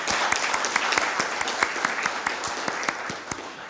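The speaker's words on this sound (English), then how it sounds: "So we definitely owe General Orr a big round of applause and all of our gratitude" Audience applause at a university partnership signing ceremony, steady dense clapping with sharp individual claps standing out, sustained for several seconds at moderate loudness.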